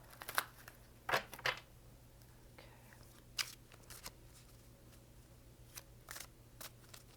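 Soft, irregular crisp rustles and snaps of tarot cards being shuffled by hand, quiet and close, with short pauses between bursts.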